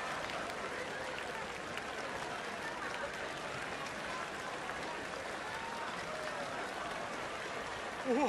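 An in-game audience in Red Dead Redemption 2 claps through a show, a steady, even wash of applause running throughout at moderate distance, with a brief louder sound at the very end.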